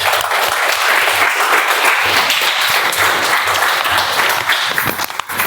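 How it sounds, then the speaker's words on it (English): A Toastmasters meeting audience gives a big round of applause for its speakers, dense sustained clapping close and loud across the whole stretch, easing slightly near the end. "Let's give them a huge round of applause"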